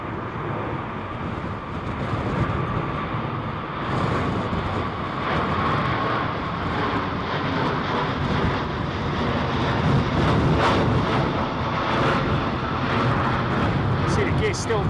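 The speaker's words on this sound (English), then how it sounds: "Stabilise the aircraft and get that gear up." An aircraft in storm wind climbs out on a go-around with its gear still down, a loud sustained roar of engines and buffeting wind noise filling the whole stretch.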